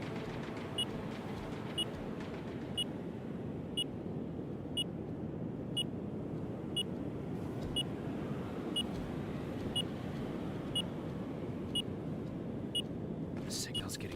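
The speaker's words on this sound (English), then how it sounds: "What's that beeping?" Steady electronic beeping from the Terminator video game, short regular beeps about once a second repeating throughout over a low continuous background rumble.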